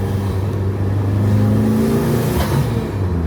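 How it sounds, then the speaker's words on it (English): A Fiat Punto GT Turbo drives and accelerates, its engine droning steadily with a rising turbo whir and road rumble heard from inside the cabin, loud and continuous with no voices. "I'm driving my Punto."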